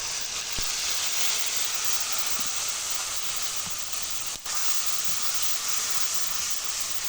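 Mixed spices sizzle in a hot frying pan with fried onions, a steady, close hissing crackle that barely changes throughout.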